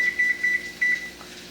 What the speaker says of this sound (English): Let's set the timer to 30 minutes.